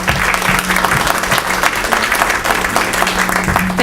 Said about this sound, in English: Just let's go ahead and give them a round of applause.